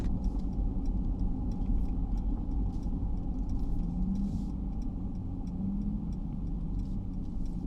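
A 2021 Mercedes-Benz G63 engine while driving, a steady low rumble with road noise inside the cabin, continuous and fairly loud, with light ticking above it.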